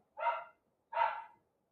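A dog barks twice at home, two clear, fairly loud barks separated by a short pause, with no talk around them.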